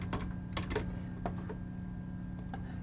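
Keys on a PC computer keyboard clack in quick irregular bursts as a web address is typed, faint and close, with short pauses between the clusters of taps.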